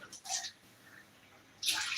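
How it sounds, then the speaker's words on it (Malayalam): A glass of water is poured into an iron pan, producing two short splashing bursts separated by a quiet pause, close and moderately loud. "ഒരു ഗ്ലാസ് വെള്ളം അതിലേക്ക് ഒഴിച്ചു കൊടുക്കാം"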